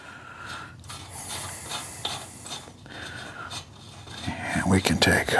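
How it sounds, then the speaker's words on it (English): A crescent wrench loosens the rear wheel nut on a 1972 motorcycle during a tire repair, giving a few close metallic clicks and a scrape near the end. Someone talks over much of it. "bust that loose with the crescent"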